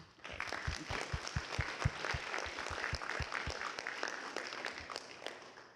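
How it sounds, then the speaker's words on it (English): Scattered audience clapping at an NRA presentation in Shelton, fairly faint and uneven with distinct individual claps standing out over a soft wash. "they deserve a round of applause"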